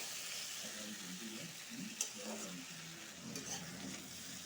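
Sliced squash and potato sizzle steadily in a pan of oil, a soft continuous hiss of frying with a brief clink of stirring partway through, heard up close and fairly quiet.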